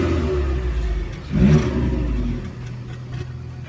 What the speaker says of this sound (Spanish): les digo, en realidad no suena mucho